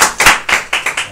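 Audience applause at a comics festival: several quick rounds of hand clapping, loud and close, bursts coming in an uneven rhythm before fading off.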